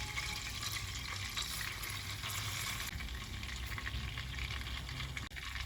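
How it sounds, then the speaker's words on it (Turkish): Dried mint sizzles in fully melted butter on the stove for a yogurt soup, producing a steady, even frying hiss that holds throughout without speech. "Tereyağımız tamamen eridikten sonra 2 tatlı kaşığı nane ekliyoruz."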